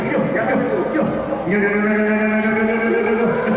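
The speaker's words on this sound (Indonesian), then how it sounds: "Ini kudanya mau dilepas." At a Gayo Lues horse race in 2023, a horse lets out a long, loud whinny over crowd noise and people talking nearby.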